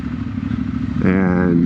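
A Triumph Bonneville T120 with a full exhaust rumbles at idle, then its note steps up sharply into a louder, steadier drone, heard up close with a voice speaking over it.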